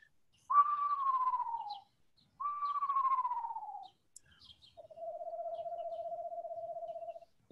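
A person whistles an imitation of a screech owl, giving two falling, wavering calls followed by a long, steady trill, close and clear with no other sounds.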